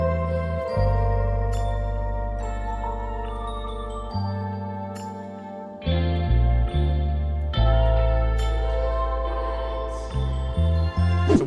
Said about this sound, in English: the correct way to make jazz and soul samples that sound like this